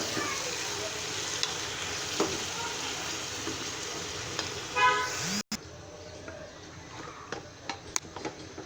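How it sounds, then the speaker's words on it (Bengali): Chopped bottle gourd sizzles and scrapes as it is stirred in a hot pan while cooking gourd dal, a steady close frying hiss with brief clinks and a short cut partway through. "এবার আমি লাউটাকে লাড়ব"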